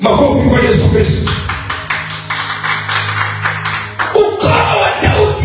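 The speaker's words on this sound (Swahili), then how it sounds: "Makofi kwa Yesu Kristo." Congregation applause at a Swahili church sermon, a dense patter of claps running throughout over sustained low organ or keyboard chords, loud and close.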